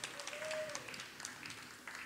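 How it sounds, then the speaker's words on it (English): Faint, thin applause from a small audience after a live glassblowing demonstration, scattered claps under a quiet hum and a brief tone. "how about a huge round of applause?"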